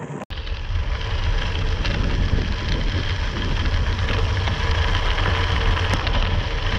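A motorcycle engine drones steadily while riding an unpaved off-road climb on Floras Creek Road, the low rumble loud and close with wind buffeting over it and no voices.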